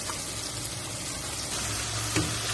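Spice masala for aloo gobi sizzles steadily in a pan, a soft continuous frying hiss with faint stirring, close and fairly quiet.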